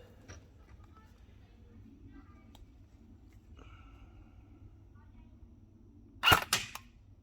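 An airsoft gun fires a single 0.40 g BB during joule testing, one sharp close crack near the end followed by a brief rattle, with quiet room noise and faint talk before it.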